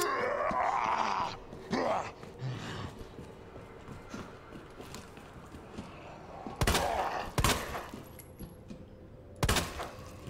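Gunshots fired at zombies in the Resident Evil 2 demo, a few sharp, loud cracks spaced seconds apart standing out over a low, muffled game ambience with scattered thuds.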